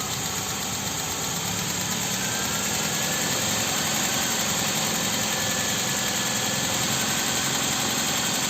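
A carbureted car engine running on LPG idles steadily and evenly, a constant mechanical drone with slight knocking vibration, heard close and unbroken throughout.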